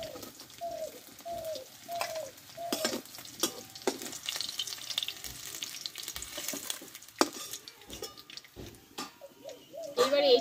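Gochi fish fry in oil with a soft, steady sizzle as they are stirred and lifted out of the pan, with utensil clanks and pigeons cooing faintly nearby.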